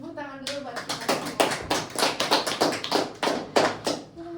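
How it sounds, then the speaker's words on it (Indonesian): A group of students clapping hands together at a campus podcast recording, a brisk run of close, sharp claps lasting a few seconds, with a voice briefly heard at the start. "tepuk tangan dulu buat kita semua"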